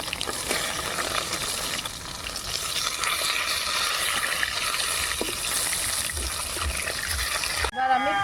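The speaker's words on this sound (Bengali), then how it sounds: "এবার মাছটা উল্টিয়ে নেব।" Katla fish sizzling loudly in hot oil in a pan as it is turned over, a steady dense frying hiss with faint scraping throughout and a brief clatter near the end.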